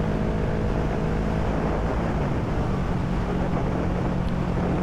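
A Kawasaki Z650 motorcycle is ridden, heard from the rider's position as a constant broadband wind roar with a low steady engine drone underneath and no pauses.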